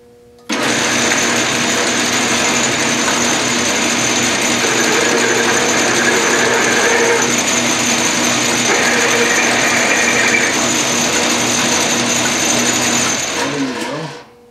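A power deburring tool works a chamfer on a metal bullet sizer part, a loud steady high-pitched whirring buzz that runs unbroken for about thirteen seconds before spinning down, with no talking.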